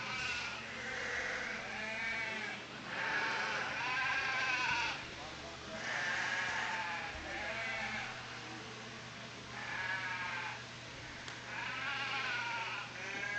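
A Dorper ewe lamb at a sheep show bleats repeatedly with several drawn-out calls, sometimes overlapping, from nearby sheep, over steady background hum and a low crowd murmur.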